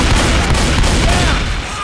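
Video game gunfire from a griefing player shooting everyone inside, a loud, dense, continuous burst of shots and booms filling the whole moment with no pause.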